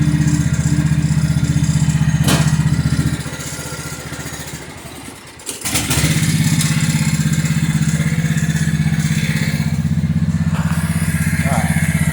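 A Craftsman lawn tractor engine idles close by with a loud, steady, low chugging rumble, dipping and sputtering briefly midway before settling back to an even idle.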